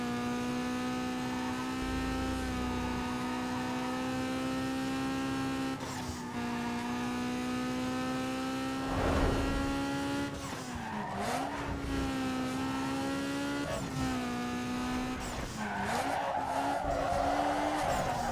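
A race car in a classic racing video game skids through a sharp turn on the handbrake, a long sustained tire squeal over a steady engine whine, with pitch dips as the car slides.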